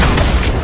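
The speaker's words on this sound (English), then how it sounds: "Guided missile. Guided missile." A guided missile blast in a video game, a single loud, booming explosion heard up close, with no talking.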